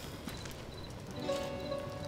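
Donkey hooves clip-clop faintly in the Goat Simulator MMO game world, a soft, steady run of light hoof taps with no talk over them.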